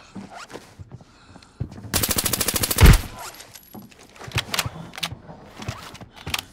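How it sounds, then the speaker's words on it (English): Rush event video game firefight: a short rapid burst of automatic gunfire, loud and close, ends in a heavy final shot, with quieter clicks and footsteps before and after. "He shot me."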